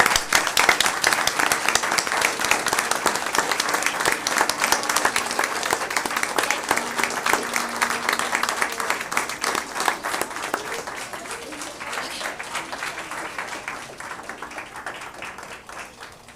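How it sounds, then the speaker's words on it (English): Sustained audience applause at a school board meeting, a dense crowd of hands clapping loudly at first, then easing lower after the midpoint and tapering toward the end, with a faint murmur underneath. "Big round of applause."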